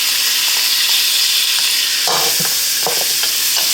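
Sausage is stirred into a pot of New Orleans red beans. A loud, close bubbling simmer carries a few scraping, knocking stirs of a spoon against the pot in the second half.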